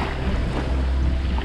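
Strong wind blows at the shore of Lake Balakhanovskoye during a kayak trip, producing a continuous, loud, low buffeting roar against the microphone with a broad rushing hiss above it.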